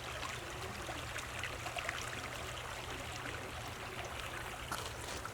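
A stream flows at a summer camp with a soft, steady babbling trickle. It is faint and continuous, and no one speaks over it.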